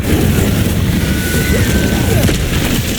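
A loud, rumbling whoosh of an Incendio fire spell in Hogwarts Legacy, a dense burst of flame noise that stays strong and sustained across the whole moment.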